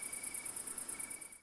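Crickets chirp in a steady, even pulsing rhythm, a continuous high trill that runs the whole time at moderate distance with no voices.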